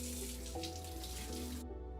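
Tap water runs steadily into a sink for hand washing, a continuous close hiss and splash that cuts off abruptly near the end.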